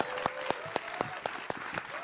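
A studio audience at a televised political debate claps in unison to welcome two debaters, sharp even beats about four per second over a bed of crowd noise, with a faint tone running underneath.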